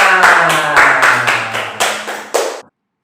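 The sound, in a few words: children and congregation clapping hands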